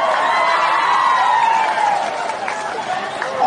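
Audience at a Sundanese religious sermon in a village breaks into applause and cheering, a loud crowd roar with shouts and whoops that stays strong throughout and swells again at the end.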